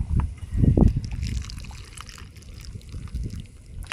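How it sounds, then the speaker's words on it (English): Cooked wild California mussels and their liquid are poured into bowls outdoors, a close, soft sloshing and trickling with a louder splash early on, then gentle dribbling. "we're going to pour it in some bowls and get ready to chow down"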